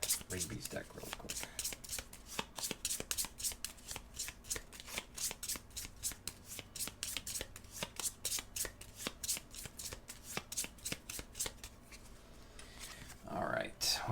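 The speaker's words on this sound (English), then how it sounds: "We need to shuffle up Rigby's deck real quick." Playing cards shuffled by hand during a tabletop tactics board game, a long run of crisp, rapid riffling bursts and flicks repeating steadily and close by, with no voices over them.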